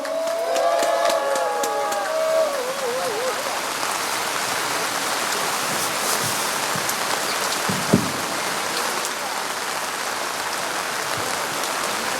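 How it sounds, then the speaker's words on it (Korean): A large outdoor crowd at a provincial rally marking the March 1st Independence Movement anniversary gives sustained applause, a continuous rain-like wash of clapping that follows a brief spoken introduction and carries on steadily to the end. "박수해 주시기 바랍니다"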